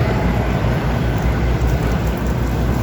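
Steady heavy rain pours down in a continuous loud hiss, with no voices and no break in the downpour.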